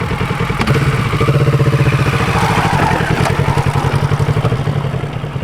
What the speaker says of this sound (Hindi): मगर वक्त है कि इसको रेव करके रोड पे देखा जाए